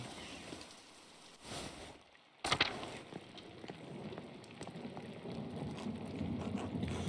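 Rain pours on an abbey courtyard in the video game Pentiment, a dense steady patter with faint rumbles and a brief quiet gap before the downpour resumes.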